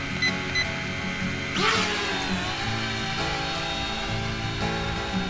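A JJRC H71 quadcopter drone hums with a steady whine from its buzzing rotors, close and continuous, rising briefly in pitch as it maneuvers in a light breeze.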